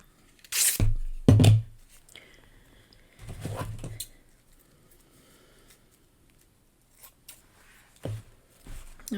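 Dark green floral tape is cut down to half width, likely with scissors. A few short, crisp snipping and rustling bursts are separated by quiet pauses, heard close up.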